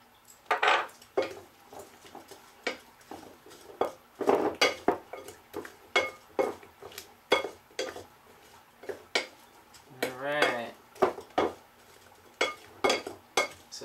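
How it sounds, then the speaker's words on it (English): Sliced cucumber tossed with a teaspoon of salt in a bowl for a Japanese-style cucumber salad, making repeated close clinks and scrapes of utensils against the bowl in an uneven rhythm. "we are going to mix it with the 1 teaspoon of salt"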